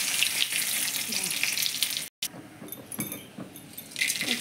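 Dried red chillies, bay leaf and panch phoron frying in hot oil in a wok: a steady, close crackling sizzle with scattered pops, briefly cut out for a moment partway through, then resuming.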